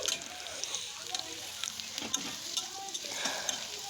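Potato pieces fry in hot oil in a pan while being cooked for an egg curry, giving a continuous soft sizzle with scattered crackles and light stirring clinks close by.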